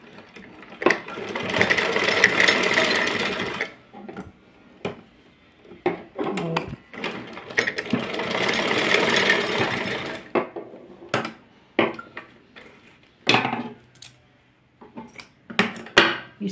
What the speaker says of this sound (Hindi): तो इस तरह से हम सिलाई लगा लेंगे दोनों साइड।